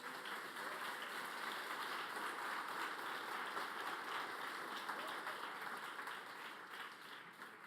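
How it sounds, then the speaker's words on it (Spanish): A church congregation at a Sunday service claps together in a steady, dense wash of applause, heard faint and distant throughout with no break. "Denle un aplauso al más famoso."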